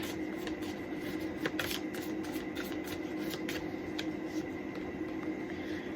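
A deck of oracle cards being shuffled close up, a continuous soft riffling flutter with a few sharper snaps of cards, faint room hum underneath and no talking.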